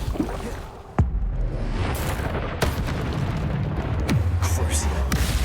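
Incendio and Confringo spells are cast in a Hogwarts video game: sharp, loud magical blasts and booms strike several times in quick succession over a rumbling background.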